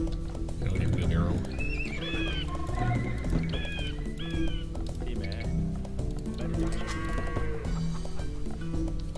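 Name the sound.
sheep bleating in video game Age of Empires 2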